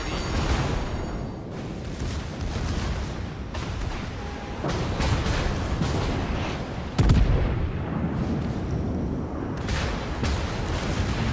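Heavy naval gunfire from the USS Missouri battleship in World of Warships, a steady rumble of booming salvos with a sharp loud blast about two-thirds through, game explosions layered over one another throughout.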